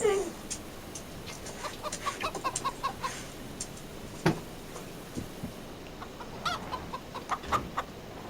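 Chickens cluck in short, repeated bursts inside a pen in the farming game Farming Simulator 25, with soft clucks scattered over a quiet ambient background and one sharper call midway.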